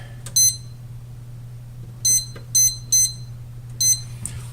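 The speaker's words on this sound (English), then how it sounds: "set the timer for 8 minutes." Kitchen oven timer giving short, sharp electronic beeps, five separate chirps spaced irregularly over a few seconds against a steady low hum while Cornish hens are cooking.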